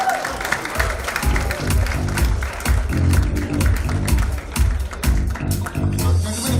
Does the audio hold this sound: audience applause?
yes